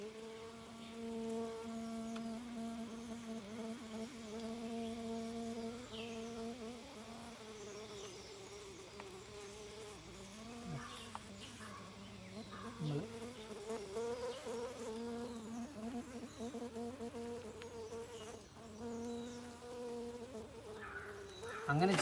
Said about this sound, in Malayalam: ഇതിൻ്റെ ഇടയിലേക്ക് ഈച്ച ഉണ്ടാവും,